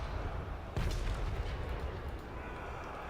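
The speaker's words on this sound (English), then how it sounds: "Cannons still firing at the Great Cannons." Cannons booming during a land battle in a strategy video game, one strong deep blast standing out over a continuous rumbling din of distant gunfire and battle noise.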